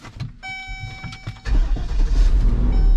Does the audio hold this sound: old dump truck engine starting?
yes